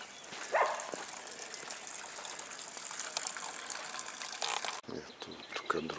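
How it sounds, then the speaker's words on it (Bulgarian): A small outdoor water fountain near a monastery gushes steadily in the open air, a continuous splashing hiss with a brief shift in tone near the end. "Чешмичката."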